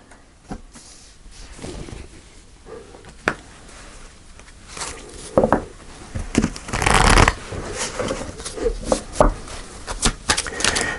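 Tarot cards being shuffled and handled at close range during a Pisces card reading, giving irregular papery riffles and slaps with one longer dense burst near the middle, with no talking.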